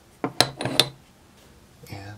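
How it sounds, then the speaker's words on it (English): A hammer strikes copper sheet on a steel block, giving a few sharp metallic clanks close together, followed by quieter rubbing and a faint, short tonal ring. "So, we'll start hammering. Here's the steel block."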